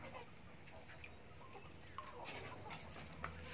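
Muscovy ducks feeding outdoors, soft scattered clucking and short calls over a low steady background, fairly faint with no talk.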